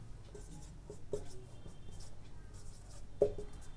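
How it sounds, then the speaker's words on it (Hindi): A pen writing a multiplication table by hand on paper, with soft scratchy strokes and a couple of small taps, close and quiet, with no voice. "एक्चुअली मैं पहाड़ा लिख रहा हूँ यहाँ पर"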